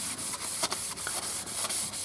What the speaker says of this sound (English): I'm just giving it a quick wipe off with some denatured alcohol or methylated spirits